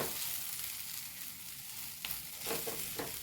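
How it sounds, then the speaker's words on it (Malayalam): Thick coconut milk being stirred in a pan for chicken milk chapati, a soft steady sizzle with a few light scraping strokes near the end. "ഇതൊന്ന് ഇളക്കി കൊടുക്കാം കേട്ടോ"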